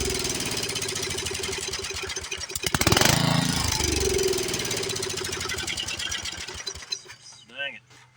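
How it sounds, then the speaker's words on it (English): Old Snapper rear-engine riding mower, left outdoors over 20 years, cranking and briefly catching on a shot of two-stroke mix, a loud rough sputter near the middle, then fading out with someone talking over it. "Let's give her another little shot of 2-stroke mix here to light her off with."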